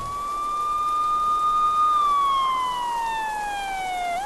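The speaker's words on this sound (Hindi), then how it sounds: "इतने में पुलिस की सायरन की आवाज आती है।" A police siren wails nearby, a single long tone rising and then sliding down, loud and clear.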